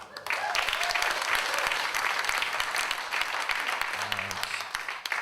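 An audience at an Irish traditional music gig applauds after a tune, with dense, loud, even clapping that fades toward the end while a voice speaks faintly underneath.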